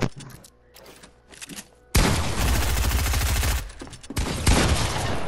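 Rapid automatic gunfire in the video game Fortnite, a loud, sustained burst of fast shots lasting a couple of seconds, followed by a few scattered single shots and another short close volley.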